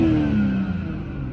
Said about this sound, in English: It's a great sounding engine, this, it really is. That B58 is just a gem.